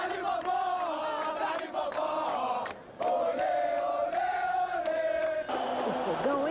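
Botafogo supporters in a packed stadium stand chant together during a match against Vasco: a loud, sustained sung chant from a large crowd, with brief dips before the mass of voices surges back in.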